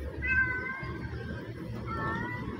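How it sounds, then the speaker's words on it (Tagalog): A cat meows inside a motorcycle parts shop, two drawn-out, wavering calls under a low background hum. "May pusa pala rito"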